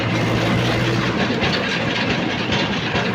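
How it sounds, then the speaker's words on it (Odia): A four-wheel tractor drives toward a paddy field, its heavy engine producing a loud, continuous rumbling clatter with a low droning tone that fades partway through, no voices. "ଦାଦା ଯାଉଛି 4 wheel ଟ୍ରାକ୍ଟର ଯାଉଛି"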